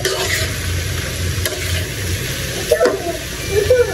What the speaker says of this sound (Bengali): ভেন্ডি ভাজিটা কিন্তু আমি ভাজা ভাজা করবো